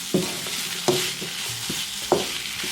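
Chopped tomatoes sauté over a medium flame for paneer butter masala, a soft continuous sizzle broken by three distinct scrapes of a spoon stirring the pan, close and alone without voices.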